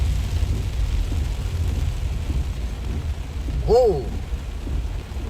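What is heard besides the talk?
heavy rain with thunder heard from car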